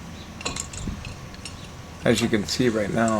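A C-clamp is tightened to push back a brake caliper on a 2002 Ford Explorer, with a few metallic clicks and ratcheting creaks close by, followed by someone talking.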